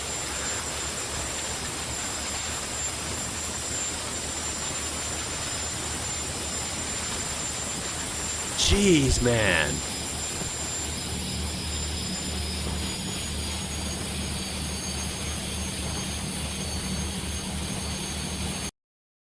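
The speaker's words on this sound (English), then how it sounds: "That's the best freaking turbo sound I've ever heard." Loud European turbo diesel engine running with a steady high turbo whistle over a broad roar, surging briefly midway, while a person lets out a short exclamation.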